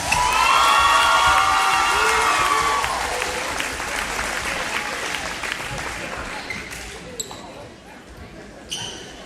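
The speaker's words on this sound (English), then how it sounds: "Let's please give both of these seniors a round of applause" Loud crowd applause and cheering for seniors at a varsity boys high school basketball game at Lindsay Lane Christian Academy, with whoops and shouts that swell at first, then gradually thin out as the clapping fades.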